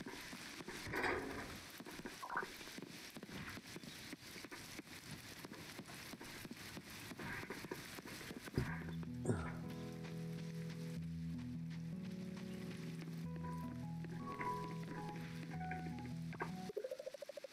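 Steady rain patter in the farming game Coral Island, a soft even hiss running throughout, joined midway by a light tonal musical melody over the falling rain.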